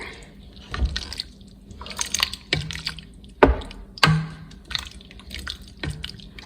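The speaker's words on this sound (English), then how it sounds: "And I'm just gonna stir all this together." Taco soup ingredients being stirred together in a pot make a handful of wet, squishy sloshes and scrapes, separated by brief quiet gaps, close and fairly quiet.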